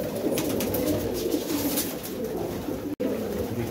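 White bar Kaju pigeons in a Karachi loft coo in a steady, low, throaty murmur that runs on continuously, with a brief dropout near the end.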